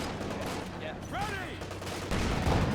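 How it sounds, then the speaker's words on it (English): An M1 anti-tank gun fires in Company of Heroes 2 amid a busy battle, with crackling gunfire that booms louder near the end while a voice speaks briefly partway through. "M1 anti-tank gun though"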